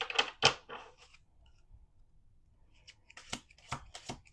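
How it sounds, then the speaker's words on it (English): Tarot cards being shuffled by hand in sharp riffling bursts, one flurry at the start and another after a quiet pause, close and crisp with no talking. "Two more shuffles."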